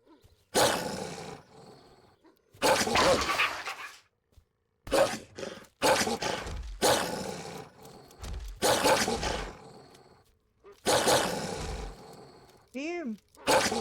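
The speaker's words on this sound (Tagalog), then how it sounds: "Ay, may aso!" A dog in the horror game We Harvest Shadows growls and roars in repeated loud, harsh bursts separated by short silences. A rising-falling tonal sweep sounds near the end.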